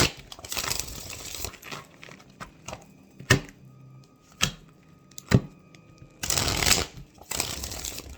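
Tarot cards being shuffled and pulled: two loud bursts of riffling, with crisp single snaps and taps of cards being drawn and laid down in between, close and clear.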